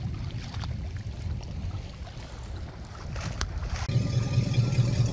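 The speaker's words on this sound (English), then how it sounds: "Loud boat, go away so I can say goodbye." A loud motorboat passes on a lake where many sailboats are racing, its low engine rumble rising and growing stronger toward the end over wind noise, with no talking.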